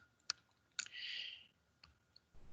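A computer mouse clicks a few times, with three sharp, quiet clicks spaced apart in an otherwise near-silent room and a brief soft hiss between them. No one speaks.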